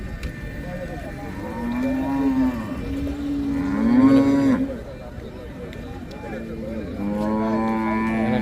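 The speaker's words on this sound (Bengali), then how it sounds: "সুন্দর গাবি গরু আছে ভাইয়ের সাথে বাচ্চা" Dairy cows with calves at Hazratpur cattle market in December moo loudly in several long, drawn-out calls, with voices talking nearby in a noisy outdoor setting.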